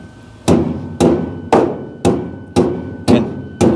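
A hammer strikes seven times in an even, fairly quick rhythm, each blow a loud, sharp close-up hit that rings briefly before the next.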